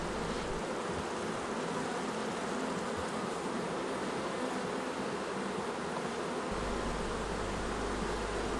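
Honeybees flying around their hive while foraging and bringing in pollen: a dense, continuous buzzing drone, steady and close, with no pauses for the whole stretch.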